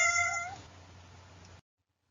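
A single cat meows once, a clear drawn-out tonal call that fades into a quiet low hum, with no talking, fairly faint overall.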